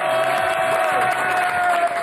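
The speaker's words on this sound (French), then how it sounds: "On peut applaudir tout ça" Studio audience applauding steadily through a French television variety show, a dense wash of clapping with a faint crowd murmur, with a sustained tone running under it.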